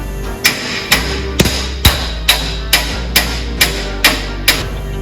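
Steady metallic blows from a body hammer's stretching face strike sheet metal about twice a second while shaping a Datsun 620 cab corner, around ten sharp ringing taps in a row, close and loud.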